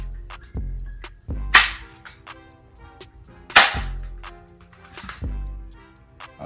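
A Double Eagle M27 BB gun fires a string of sharp, snapping cracks: four loud shots spaced a second or two apart, with many faint ticks and clicks between them. No one speaks.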